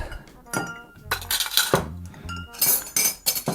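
A decent piece of ice clinks into a mixing glass while an Old Pal cocktail is being built, a few sharp glassy knocks and clatters close by among other bar handling noises.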